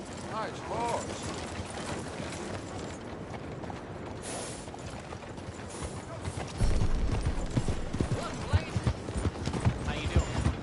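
Horse hooves clip-clopping in a PS4 video game, a steady clopping rhythm with creaking tack, growing louder partway through amid game sounds and someone talking.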